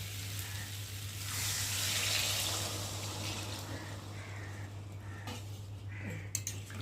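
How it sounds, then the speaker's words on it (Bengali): Water pours into a hot pan of potato and pointed gourd curry cooked with prawns, a broad rushing hiss that swells, sizzles and fades over several seconds, with a steady low hum beneath and a few faint clinks near the end. "আর এখন আমি জল দিয়ে দেবো।"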